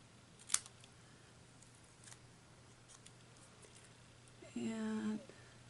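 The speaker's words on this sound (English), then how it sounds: "I'm just going to do it with my scissors" Scissors snipping through paper while a graduation cap and gown gift card holder is cut out, one faint snip early on and then a close, louder cut of about a second near the end, in a quiet room.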